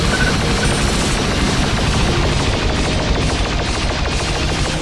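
Warship forward batteries fire in a dense, continuous barrage in the Freespace 2 space combat game, a loud wall of rapid rattling bursts filling the whole clip with no voices.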